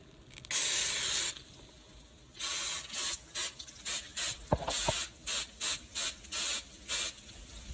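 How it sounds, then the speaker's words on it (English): Olive oil sprayed onto a pan for frying eggs: one long spray burst, a pause, then a rapid series of short, evenly spaced spritzes, close and crisp, with a couple of faint clicks between them. "Gotta put some olive oil. Some olive oil on top."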